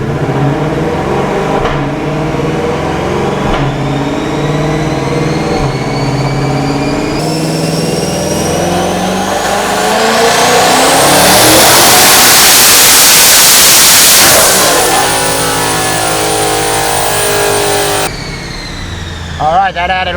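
CX1600TT car engine revving hard on a dyno, its pitch climbing steadily into a loud, sustained roar, peaking and then dropping off, with a hiss of boost and turbo whine layered in.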